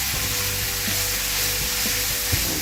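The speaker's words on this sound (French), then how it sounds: "je viens rajouter mes oignons nouveaux. Comme ça je finis ma cuisson" Spring onions sizzle and fry steadily in a hot pan for a tuna quiche, with a constant close hiss and occasional faint stirring scrapes, no voices.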